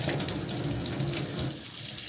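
Shower water runs steadily during a baby's bath at home, a continuous hiss of spray that eases slightly toward the end, with no talk.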